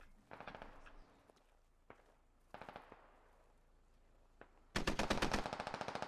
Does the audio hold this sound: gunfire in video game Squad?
yes